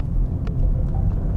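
Maserati GranTurismo Trofeo engine in Sport mode, heard from inside the cabin while driving in Dubai: a steady, low rumbling drone close to the mic with no talking.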